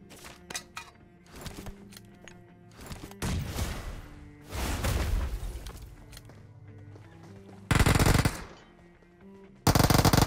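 Rapid bursts of automatic gunfire from a BGMI battle-royale match, with several sharp volleys separated by pauses and two loud dense bursts near the end, each one close and harsh.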